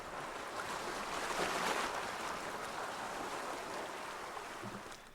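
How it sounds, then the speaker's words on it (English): Broad, washing sea-wave ambience from a free ambient music VST plugin, a continuous surf-like rush that swells gently and fades near the end, heard alone without voices. "We then have sea waves."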